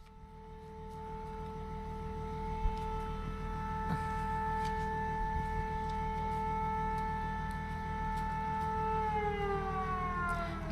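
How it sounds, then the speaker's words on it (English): A long, steady wailing air raid siren drones from a distance in wartime Ukraine, holding pitch for several seconds before slowly sliding downward, with faint background noise. "This is the third air raid siren that we've heard"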